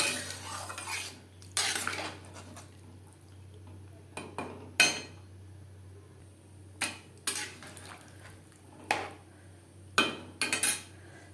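Metal utensil stirring fish curry with potatoes and green banana in a pot, scraping and clinking in short irregular bursts over a low steady hum, no talk.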